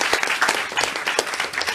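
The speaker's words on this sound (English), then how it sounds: "And maybe we give a round of applause to Javier." A talk show audience gives a short burst of applause for a guest, many hands clapping close and lively across the whole moment.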